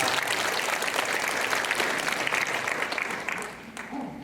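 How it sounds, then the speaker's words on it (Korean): Church congregation applauding together after a prayer, a dense sustained clapping that holds steady and then tapers off near the end. "하나님께 영광의 박수 올리겠습니다."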